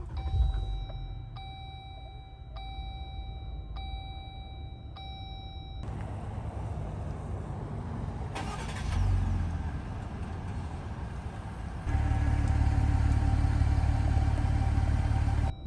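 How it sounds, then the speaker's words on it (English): A few evenly spaced electronic beeps, then a 2021 Jeep Gladiator Mojave's engine cranks via push button and starts, settling into a loud, steady diesel idle that grows heavier near the end. "then push the button to start the engine."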